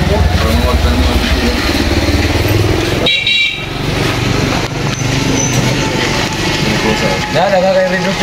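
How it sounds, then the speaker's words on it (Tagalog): A motorcycle engine idles in busy Manila street traffic, with car horns honking and people talking loudly over the constant engine rumble. "Motor ni Hari"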